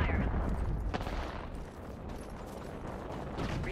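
Gunfire in the video game Apex Legends crackles through a dense, steady wash of noise, loud and continuous for nearly four seconds with no clear gaps between shots.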